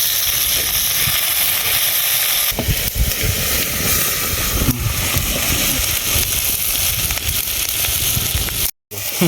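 Tomatoes cooking in a hot pan give off a steady, loud sizzle and hiss with steam that stays constant throughout, with a brief gap near the end.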